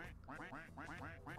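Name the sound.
duck quacking in Roblox video game Duck Army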